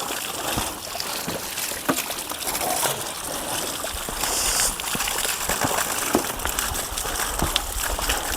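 Water flowing at a natural mountain waterfall, a steady broadband rush and trickle that stays constant throughout, with faint splashes and a few scattered clicks.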